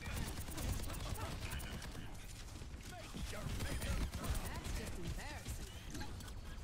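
Automated turrets fire in a PvE video game mode, giving dense, continuous bursts of gunfire. Loud overlapping shots and game noise run throughout.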